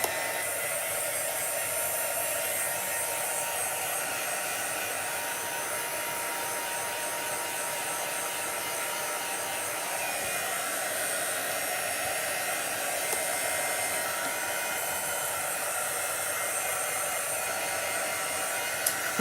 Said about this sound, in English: I'm going to kind of shoot this with a little bit of air here, just to make sure they're nice and dry.